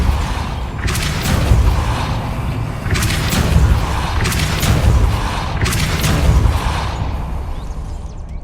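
The Depulso force spell goes off repeatedly in Hogwarts Legacy, producing several heavy booming blasts with whooshing bursts, spaced a second or two apart, loud and alone.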